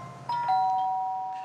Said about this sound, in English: ringing the doorbell.